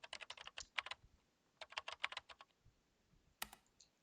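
Fingers strike computer keyboard keys hard in the video game Chaos;Child, making rapid, sharp clattering bursts of typing with short pauses between them, close and alone, ending with a few heavier isolated taps.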